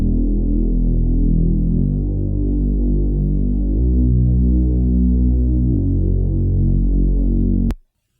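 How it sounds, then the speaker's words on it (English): A thick, detuned Reese bass from a Serum synth preset drones low and steady in a piano house verse, shifting pitch every two bars before cutting off abruptly near the end. "So I have this Reese bass going on."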